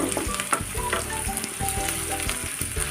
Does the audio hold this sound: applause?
no